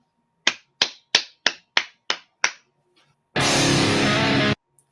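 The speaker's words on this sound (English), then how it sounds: "I'm clapping." Seven crisp hand claps land close and evenly spaced, each sharp and dry, followed after a short pause by a sustained loud burst of broadband noise; no one speaks.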